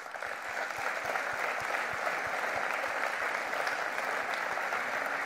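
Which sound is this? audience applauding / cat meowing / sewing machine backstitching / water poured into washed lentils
audience applauding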